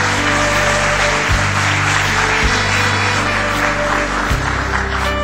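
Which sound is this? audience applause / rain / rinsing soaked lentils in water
audience applause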